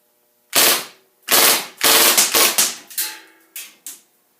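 Seven sharp cracks from an HFC MAC-11 airsoft gun fired semi-auto, close and loud, coming in an uneven string of single shots with short pauses and clear decays between them.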